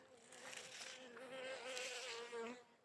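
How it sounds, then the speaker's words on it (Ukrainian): Bees fly around flowering strawberry plants inside a greenhouse, pollinating them; a steady, close buzzing drone wavers in pitch for about three seconds with no voices. "Бджілки літають, опилюють."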